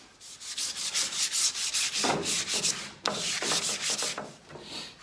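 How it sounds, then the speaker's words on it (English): Rhythmic scratchy rubbing of sandpaper on pallet wood, hand sanding the edges of posts with quick back-and-forth strokes close up, with a brief pause and a small knock midway. "I'm just going to use some paper by hand and just go over the edges."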